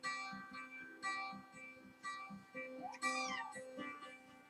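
A cat meows repeatedly at roughly one-second intervals, fairly close, with a longer, rising meow near the end of the series.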